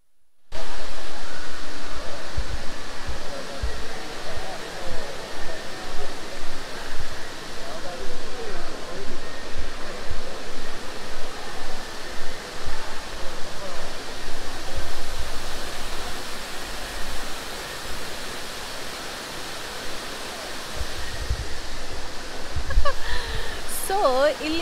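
An artificial indoor waterfall in a jungle-style garden inside Bangalore airport's Terminal 2 gives a steady, loud, even rush of falling water that runs unbroken throughout.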